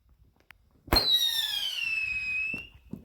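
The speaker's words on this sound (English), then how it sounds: "Is this a big one or just a Roman candle?" A Roman candle firework bursts with a sharp crack, followed by a loud, falling whistle that rings for about a second and a half before fading, with a couple of faint pops and scattered crackles after.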